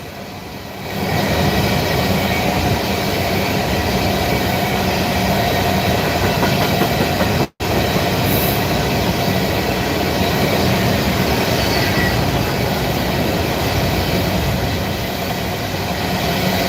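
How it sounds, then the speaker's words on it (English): Freight trains rumble past loudly and steadily at close range at night in Ooltewah, a continuous roar of wheels and clatter lasting throughout. "Trains on either side."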